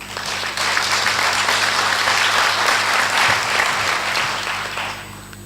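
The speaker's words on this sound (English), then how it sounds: "I would like to ask a round of applause for them" Conference audience applauds at a closing session, a dense wash of many hands clapping steadily and loudly throughout, swelling in just after the start and easing slightly near the end, with no talking over it.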